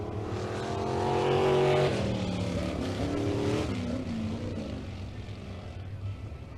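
Race cars at Ohsweken Speedway, a dirt oval, with several engines roaring together. The sound swells as the field passes close by, then fades into a distant drone.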